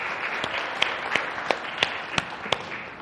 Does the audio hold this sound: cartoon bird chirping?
no